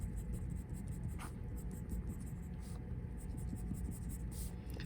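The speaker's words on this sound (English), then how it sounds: "maybe I want to add hatching at the side" Steady soft scratching of a pencil hatching on paper, a continuous dry rasp with faint rhythmic strokes throughout, close by and quiet.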